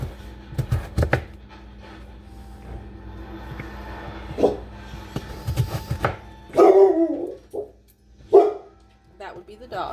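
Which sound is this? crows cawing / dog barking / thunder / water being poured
dog barking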